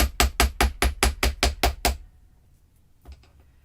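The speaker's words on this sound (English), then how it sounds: "And now I'm going to take the hammer." Eight quick, evenly spaced hammer blows ring out close and loud as a wire bangle is struck on a metal bench block, then a pause and one softer tap after.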